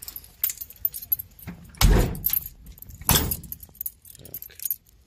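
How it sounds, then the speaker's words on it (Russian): A car door shuts twice with solid thumps after a drive in starting rain, with keys jangling and faint rustling around the slams. "Ань, закрывай дверь."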